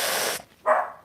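A tiny dog gives two sharp, loud barks indoors nearby, the first longer and the second short after a brief gap.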